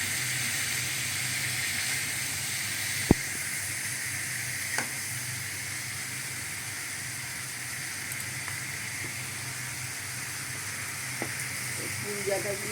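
Malabar spinach stalks fry with spices in a pan, giving a steady, fairly loud sizzle and hiss throughout, broken by an occasional sharp utensil tap against the pan.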